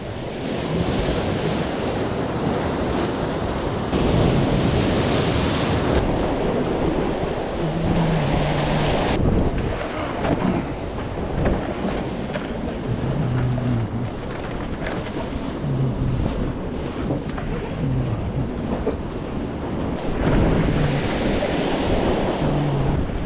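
Rough sea waves pound the shore during a storm surge, a loud continuous roar of surf with crashing swells and gusting wind buffeting the microphone, with no talking.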